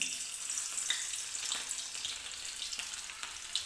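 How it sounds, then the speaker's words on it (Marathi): Garlic sizzles in hot oil for a methi bhaji, a steady close crackle with small bursts and spits throughout, no voices over it. "इथं तेल गरम झालेलं आहे आपण लसूण टाकून घेऊया"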